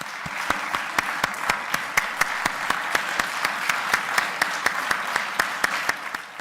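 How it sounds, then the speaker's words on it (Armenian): Members of Armenia's parliament clap to see off departing colleagues as the convocation closes; steady sustained applause fills the chamber with a few sharper, louder claps standing out at a regular beat throughout. "ՔՊԱ-ականները ծափերով են ճանապարհում թիմակիցներին"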